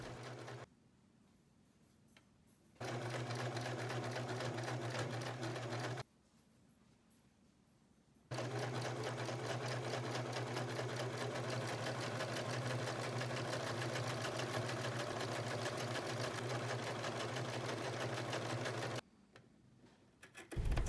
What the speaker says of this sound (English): I'm only sewing down a few inches at a time